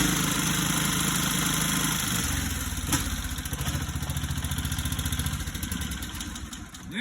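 Small lawnmower engine running with its muffler refitted, a steady loud clattering idle that shifts to a faster, pulsing chug partway through, close up with no talk.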